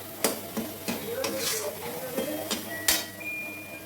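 Spices sizzle in a pan while being stirred, with repeated sharp scraping clacks of a spoon against the metal over a soft, steady frying hiss, close and fairly quiet.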